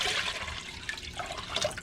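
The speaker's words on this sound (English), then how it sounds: "you're going to fill it half full with water" Water pours steadily into a medium-to-large crock pot filling it half full, a continuous broadband splashing rush close by with no voices.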